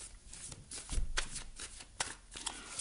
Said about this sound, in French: On va aller voir au niveau des ombres, avec les cartes lumière de Lise Bartoli